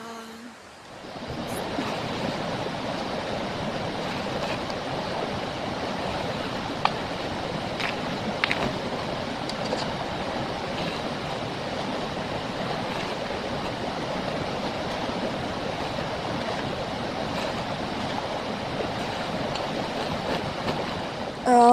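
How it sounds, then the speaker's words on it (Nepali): Continuous rushing water, a broad steady wash like a flowing stream nearby, with a few faint knocks but no talking. "खोला"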